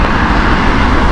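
A British Airways shuttle jet on the Newcastle flight at Heathrow Airport gives a steady, loud broadband engine roar that holds constant throughout, with no other sounds standing out.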